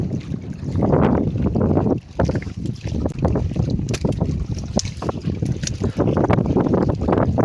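Strong wind buffets the microphone in a loud, continuous rumbling roar, with faint watery sounds beneath, on an open boat on calm water.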